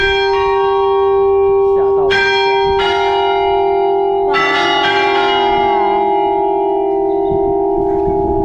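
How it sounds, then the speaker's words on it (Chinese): A large church tower bell rings nearby, its deep sustained tone humming under repeated strikes that add bright overtones, with faint voices in the background. "现在大家好像在等后面的钟声响"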